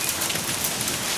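A hailstorm pelts down as dense, steady hiss and patter, close and constant, with no voices.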